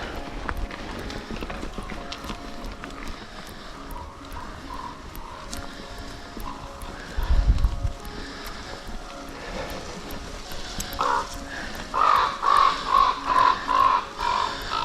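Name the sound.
crows cawing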